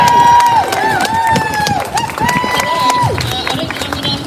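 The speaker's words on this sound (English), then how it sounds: "Round of applause, please." A crowd at a street protest in Chelmsford claps and cheers, loud and sustained, with whistles and shouting voices riding over the applause.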